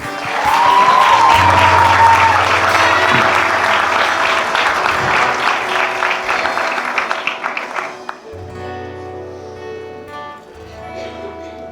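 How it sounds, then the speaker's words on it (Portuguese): Audience applause at a church leadership school graduation ceremony: loud, dense clapping that holds steady for several seconds, then thins into scattered claps and fades as it winds down. A faint cheer or whistle rises near the start. "Dê uma salva de palmas ao Senhor"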